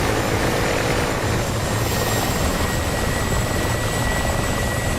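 A Hind attack helicopter in a combat video game, its rotor drone steady and loud, a dense continuous whir with faint whine overtones holding level throughout.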